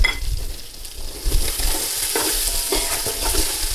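Onions frying in a pot for chicken and rice, loud crackling sizzle with continuous stirring and scraping close by, no talking.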